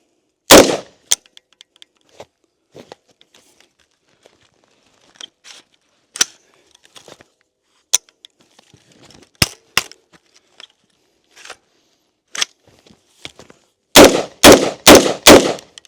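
Faint scattered clicks and taps, then an Andro Army ACI-15 airsoft rifle fires five sharp, loud shots in quick succession near the end.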